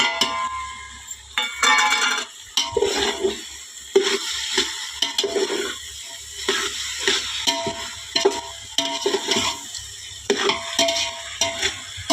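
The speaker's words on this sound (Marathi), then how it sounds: "त्याच्यात मी आता तीळ आणि गूळ टाकते." Sesame seeds and jaggery are stirred into a vegetable curry frying in oil in a pot over a wood-fired clay stove, with repeated scraping strokes of a spoon over a steady sizzle.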